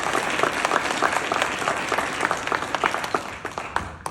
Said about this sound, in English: I want to give a round of applause one more time to everyone who came up here and presented and was a part of the Expo